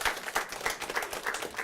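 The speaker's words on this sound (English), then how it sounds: "give a big round of applause" Quick, fairly loud applause from a school audience at a student scholars event, with distinct sharp claps rising repeatedly out of a steady patter, heard close.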